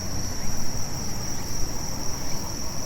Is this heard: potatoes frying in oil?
no